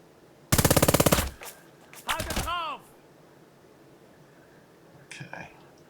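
Gunfire from the WWII strategy game Burden of Command: a loud, rapid machine-gun burst, then a second ragged volley with ringing tails, and a faint later shot. No one speaks.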